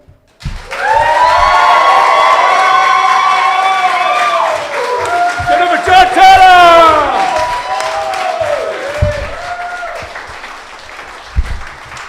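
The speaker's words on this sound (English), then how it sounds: "those applause are just being courteous" A poetry slam crowd at a summer street festival applauds and cheers after a performance, with loud rising shouts and whoops over clapping. The noise then tapers off into scattered claps and voices.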